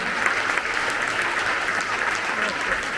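Dense, loud applause from a gala audience for flamenco dancers, a steady unbroken wash of many hands clapping with no gaps across the whole stretch.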